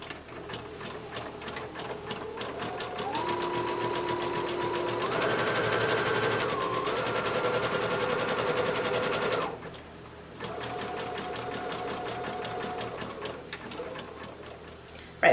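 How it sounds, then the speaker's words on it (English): A sewing machine runs a zigzag stitch along the edge of an 18-inch doll's dress, buzzing loud and close in continuous runs with one brief pause before stitching resumes. "I'm going to go back and I'm going to zigzag along this edge."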